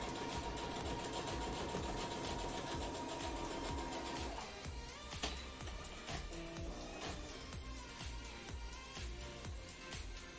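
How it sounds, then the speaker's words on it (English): A sewing machine stitches double-sided bias tape, its rapid mechanical chatter running throughout under louder background music, with no speech. "it would sew a lot better if I was using just single-sided bias tape and not double-sided"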